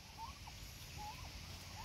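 A backyard-farm turkey gives a few short, faint gobbling calls against a low background rumble.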